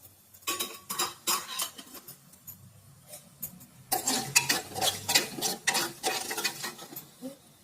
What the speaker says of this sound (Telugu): వేగిన తర్వాత వచ్చేసి మనం కరివేపాకు వేసేసుకోవాలి